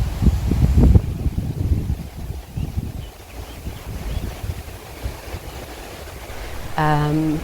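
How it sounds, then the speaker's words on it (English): Gusty wind buffets the microphone in heavy low rumbles, strongest at first, then easing into a steady rushing, with a short tonal beep near the end. "So it does get a little bit windy."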